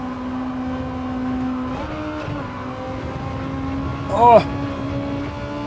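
Cosworth-engined race car in Gran Turismo 7, its engine holding a steady, buzzing drone at moderate loudness, with a brief sharper rise near the end while a voice speaks over it.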